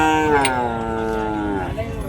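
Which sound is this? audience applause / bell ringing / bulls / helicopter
bulls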